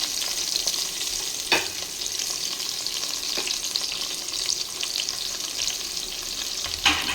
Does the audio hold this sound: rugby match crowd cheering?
no